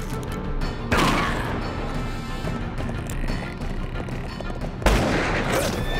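Western shootout gunfire: two sharp, loud gunshot blasts about four seconds apart, each ringing out over a busy background of rumble and scattered noise.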